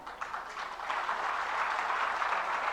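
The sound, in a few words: audience applause at a religious discourse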